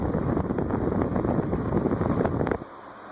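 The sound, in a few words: Fanimation Beckwith ceiling fan running on high speed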